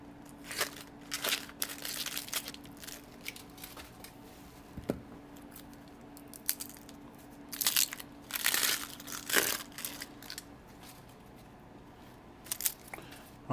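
Dry onion skin peeled by hand on a kitchen cutting board, giving soft, intermittent crinkly crackles and papery rustles at close range, with quiet pauses and a faint steady hum beneath.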